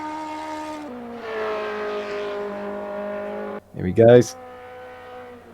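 Race car engine tones sweep steadily through corners at Brands Hatch in a racing video game, with a brief louder burst of revving or tire noise near the end, under a commentator talking.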